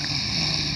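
A person snoring in a steady, continuous drone, close and fairly loud, with no talking over it.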